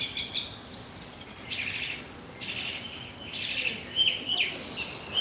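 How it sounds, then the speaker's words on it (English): Birds chirp outdoors at the Beijing Stone Carving Museum, with repeated bright, moderately loud chirps and short trills scattered through the scene over a low ambient background. "Oh, beautiful bird."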